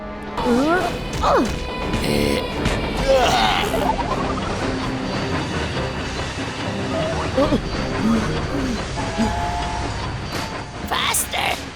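Loud, clattering noise of an animated cartoon train with metallic screeches and banging, dense and continuous, with excited shouting mixed in.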